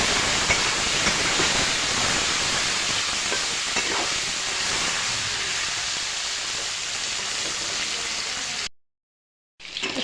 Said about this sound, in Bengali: এখন ভালো করে নাড়াচাড়া করে ভেজে নেব।